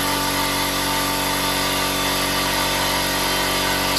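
A belt-driven air compressor runs steadily and loudly, its motor pumping air in a dense continuous mechanical drone that holds unchanged throughout with no voices.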